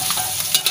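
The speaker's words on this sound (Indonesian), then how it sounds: "sekarang ikan terinya kita goreng" Small dried anchovies (ikan teri) frying in hot oil in a pan give a steady, close sizzle with a few stirring scrapes, and no talk over it.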